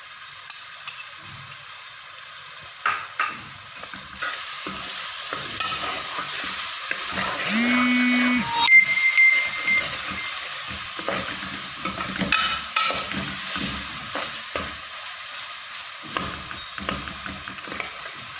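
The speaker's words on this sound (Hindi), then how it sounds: "इनको थोड़ा सा भून के अब हम इसमें टमाटर आम हांडी की निस्बत थोड़े से ज़्यादा डालते हैं" Tomatoes frying with kebab masala in a handi give a steady sizzle throughout, broken by scraping stirs of the spoon and a brief tonal clink midway, with no talking.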